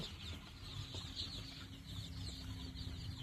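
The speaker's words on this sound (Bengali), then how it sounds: "700 মুরগি, দেশি মুরগির বাচ্চা" A flock of about 700 desi chicken chicks clucks and chirps on a poultry farm. The busy, overlapping calls come from many birds at close range and are fairly quiet, with no talking.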